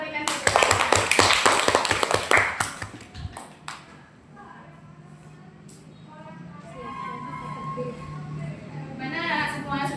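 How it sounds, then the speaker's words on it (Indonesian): Applause from a classroom of students, a dense burst of clapping that starts loud, then dies away within about three seconds, followed by quieter room murmur and a voice. "Mari kita berikan tepuk tangan."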